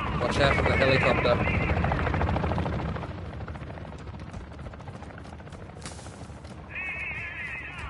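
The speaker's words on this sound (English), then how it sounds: "Watch out for the helicopter." Helicopter rotor chop throbs loudly in Warzone 2 DMZ, then fades under game effects and radio chatter.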